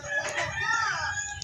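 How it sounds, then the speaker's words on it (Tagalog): Broiler chickens on a backyard farm cluck and a rooster-like call rises briefly, close by, over a low background hum. "Ayan yung mga manok."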